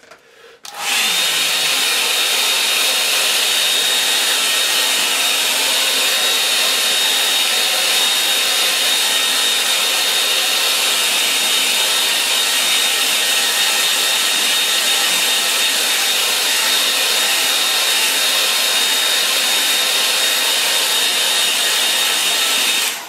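A hair dryer blows steadily on wet watercolour paint, a loud, constant close-up whoosh that starts abruptly and runs unbroken for over twenty seconds with no talking.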